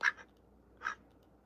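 A pet duck named Millie quacks twice, a sharp close call at the start and another just under a second later, with quiet room tone in between.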